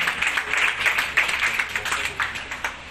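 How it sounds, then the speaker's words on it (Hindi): Loud applause from an assembled crowd at a ceremony honoring trained young women, dense rhythmic clapping pulsing steadily at close range without pause. "एक बार जोरदार तालियों से इनका सम्मान आप करें।"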